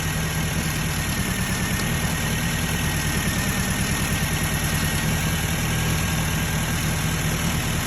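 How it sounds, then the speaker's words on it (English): A Nissan Sentra SE-R Spec V engine idles with a misfire, heard close and steady throughout. The low, continuous rumble has a faintly uneven, pulsing beat, with no talking. "Okay, so I got the car running, but it's got a miss."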